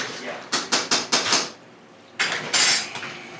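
Nacho cheese sauce is stirred in a pot at a fire station kitchen, a utensil scraping and clanking against the metal in quick bursts, pausing briefly before a second round of strokes.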